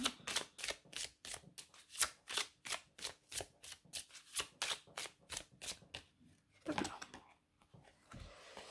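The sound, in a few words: oracle cards being shuffled for a reading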